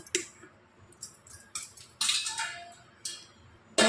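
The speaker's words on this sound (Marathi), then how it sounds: "त्याच्यावरचं ताट काढून घेऊया आणि ह्या कढईमध्ये हे तीन ठेवून घेऊया" A plate lifted off a preheating kadhai and a cake tin set inside for a pineapple rava cake: a string of sharp metallic clanks and scrapes, close and separate, with quiet gaps between them and no talk.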